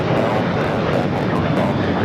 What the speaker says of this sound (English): This is United Airlines 276 taking off to San Francisco on a 737-800